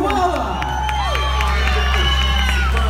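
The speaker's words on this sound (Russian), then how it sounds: "А давайте еще, друзья, поаплодируем той команде, ребят, стояли на сцене." Outdoor concert crowd in a park applauding and cheering for performers, a loud continuous roar of clapping mixed with shouts and whoops, with a constant low hum and tonal sounds underneath.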